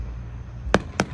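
Fourth of July fireworks burst twice in quick succession, sharp and moderately distant, over a low steady background hum.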